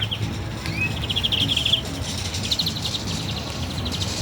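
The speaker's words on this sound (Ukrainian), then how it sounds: "Боже, як пташки співають" Birds chirping and trilling in short high bursts over a steady low rumble, with faint insect-like buzzing in the background; no one speaks.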